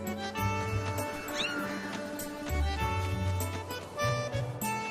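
A small cat meows in The Legend of Zelda: Skyward Sword, its calls sitting over steady game music with a low pulsing bass, no talk.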